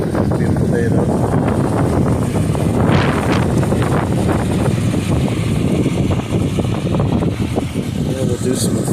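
Steady wind buffets the microphone throughout, a constant low rumble with gusty swells, alongside faint outdoor background noise.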